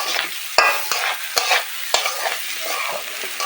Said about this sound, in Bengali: আমি এখন ভাজবো এটাকে কষাবো কষিয়ে ভালোভাবে একটু নাড়াচাড়া করবো